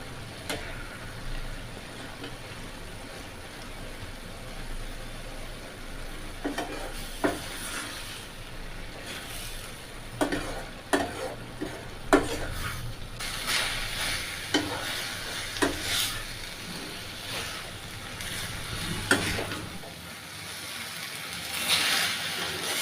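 A spoon stirs a carrot halwa mixture in a pan, with repeated scraping strokes and sporadic louder clacks against the pan over a soft, continuous sizzle, close up and without talk.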